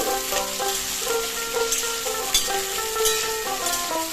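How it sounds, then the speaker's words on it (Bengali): Sliced cauliflower fries in hot oil in a pan as it is stirred, a close steady sizzle with scraping, clinking stir strokes recurring every second or so, no voices. "তারপরে আমি ওটাও একটু নাড়াচাড়া করে নিচ্ছি তেলের মধ্যে"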